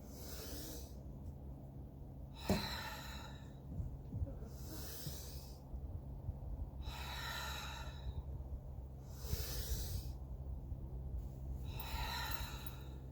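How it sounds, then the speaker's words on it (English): Slow deep breathing during a cooldown after a dumbbell and bodyweight HIIT workout, about six long airy breaths evenly paced, close and fairly quiet over a low background hum. "I'm going to go ahead and use the arms and get some deep breaths in here"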